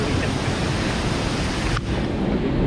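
Badigunta waterfall near Akuru, Rampachodavaram, roars with a dense, continuous rush of water that fills the whole clip, loud and close, with no voices over it.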